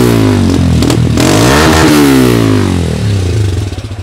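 A Honda CB200X motorcycle engine revs up from idle, a loud, close throttle blip with rising and falling pitch and mechanical clatter, heard alone without talk.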